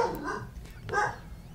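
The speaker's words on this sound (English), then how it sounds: "Uh, don't mind our esteemed guard dog." A guard dog barks indoors, two short yelping bursts a moment apart at moderate volume, with a faint low hum under them and no talk.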